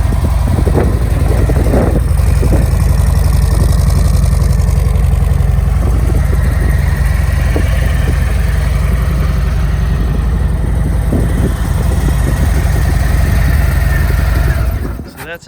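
A 2020 Harley-Davidson Heritage Classic 114 motorcycle idles with a steady, loud low rumble throughout, its V-twin thump continuous until the engine cuts off near the end.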